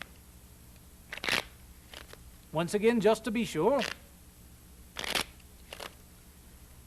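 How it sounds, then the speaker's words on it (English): A short riffle of cards being shuffled, a quick crisp burst between brief clicks, with a person speaking before it. "I'm going to give these cards a quick shuffle."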